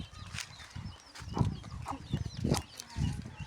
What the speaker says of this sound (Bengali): তারপরে ওইদিকে আছে মুরগি।